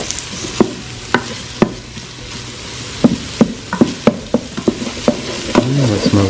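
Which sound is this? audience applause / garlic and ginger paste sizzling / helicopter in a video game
garlic and ginger paste sizzling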